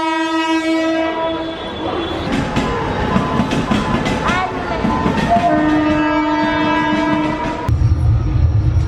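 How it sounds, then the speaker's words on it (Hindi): A passenger train pulls into a station, its long horn blaring in sustained tones over rumbling wheels and clatter, with a second horn blast near the end. "तो अब हमारी ट्रेन आने वाली है"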